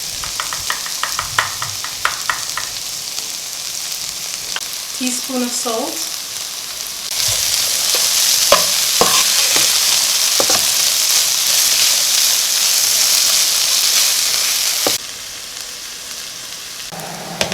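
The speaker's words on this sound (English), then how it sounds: "We'll stir fry this for about 2 minutes and then we'll add the water." Curry pigeon peas stir-fry in a pot on low heat, giving a steady hiss and sizzle that swells louder midway and then drops back. A voice speaks briefly near the start.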